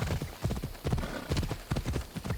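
A horse trots in Assassin's Creed Odyssey, its hooves clip-clopping in a steady rhythm on hard ground, close and clear with a faint background wash.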